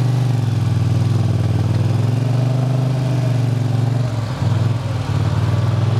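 Motorcycle engine held at steady high revs on a wheelie simulator, a loud continuous drone that dips briefly near the end before picking back up.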